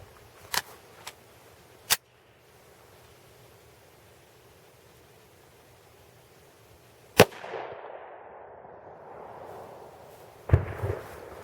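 A Steyr C9A1 9mm pistol fires 50-grain Liberty Defense rounds into a Level IIIa soft armor vest: one sharp, loud report mid-clip, with a few fainter snaps before it and another burst of noise near the end.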